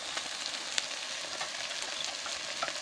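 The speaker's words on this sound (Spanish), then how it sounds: "ya lo estoy haciendo ya mi aderezo con ajos. Ya eché la cebolla." Garlic and onion sizzling in hot oil in a pan for a dressing, a steady bright frying hiss with small crackles and occasional stirring clinks, close and continuous.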